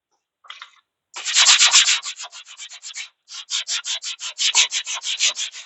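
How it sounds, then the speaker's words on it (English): Forged steel hatchet being sanded: a brief scrape followed by a long series of rhythmic, loud, close abrasive strokes, about two per second, with a short pause partway through and no speech. "Back to sanding."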